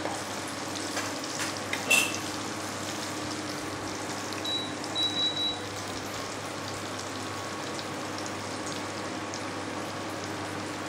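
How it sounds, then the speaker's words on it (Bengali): Bengali nimki dough pieces deep-frying in hot oil until golden, a steady close sizzle and crackle running throughout with a couple of brief brighter pops, no voices. "ভালো করে ভেজে নেবো, একদম গোল্ডেন কালার করে।"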